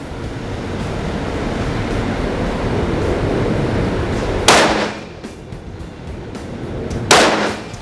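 Two sharp, loud gunshots from a KEL-TEC CMR30 .22 Magnum rifle crack out about two and a half seconds apart over a rushing, windy outdoor background, each with a brief fading tail.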